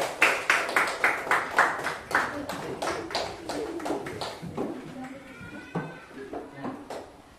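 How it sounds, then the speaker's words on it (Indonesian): Schoolchildren in a classroom clap in a quick, rhythmic burst after a group presentation on flower parts; the clapping is close and lively, then fades into scattered taps and children's voices. "Oke, tepuk tangan."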